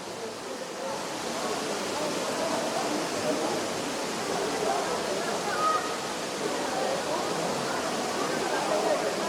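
Steady rushing roar of a waterfall and flowing water near Cherrapunji, loud and continuous throughout, with no clear break.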